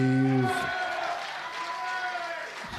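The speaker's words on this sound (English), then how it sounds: "it's a big number that gets a cheer" A darts crowd at the WDF Lakeside World Championships lets out a loud, rising cheer and roar for a big score, sustained for a couple of seconds.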